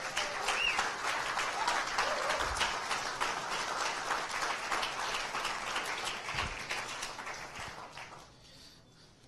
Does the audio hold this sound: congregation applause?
yes